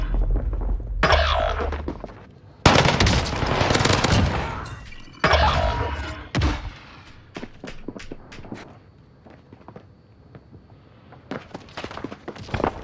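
Bursts of automatic gunfire in the Warzone video game, with loud sustained volleys broken by short gaps, then scattered single shots and quick footsteps that fade before a final burst.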